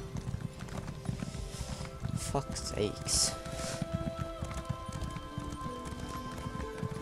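Rhythmic hoofbeats of a galloping horse in Elder Scrolls Online, with a brief whinny and a man muttering over it.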